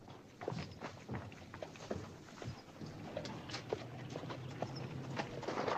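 Horses walk with faint, irregular hooves clip-clopping against steady background noise in an old Western film.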